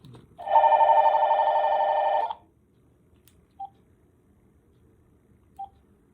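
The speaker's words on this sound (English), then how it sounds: "Wouldn't you know the phone would ring?" A telephone rings once in a long electronic burst of about two seconds, loud and close indoors in a quiet room, followed by silence with a couple of faint clicks.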